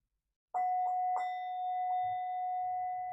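A meditation bell rings with a clear struck tone, then a second strike follows, and the pure ring sustains steadily without fading much, with faint low rumbles underneath toward the end.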